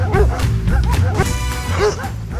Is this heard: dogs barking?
yes